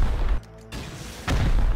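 Rocket launcher fire in the video game Rust, a heavy booming blast with low rumble, then a brief dip and a second loud burst, close and dense.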